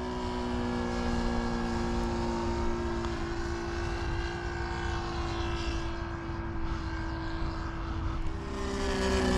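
A Hangar 9 Ultra Stick model airplane with a radial or boxer engine flying overhead, its propeller engine giving a loud, steady buzzing drone that holds nearly constant pitch with a slight shift as it passes, no speech.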